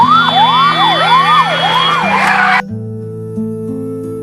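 Loud, close ambulance siren wailing in rapid rising and falling sweeps. It cuts off abruptly partway through, leaving sustained steady tones.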